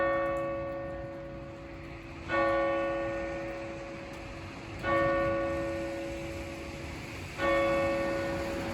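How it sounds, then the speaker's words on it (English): Church bells ringing in West Derby village, Liverpool, three loud clear strikes spaced a few seconds apart, each ringing out with a long resonant decay and humming overtones, no talking. "Now you got to hear the bells as well."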